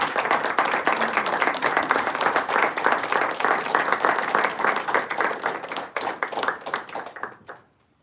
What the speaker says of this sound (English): May I request everyone to stand and applaud because this is the first speech in this course.